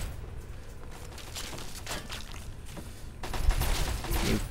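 Bursts of gunfire in Fallout 3, a run of rapid shots with dense crackle, growing louder and heavier toward the end, with no talking.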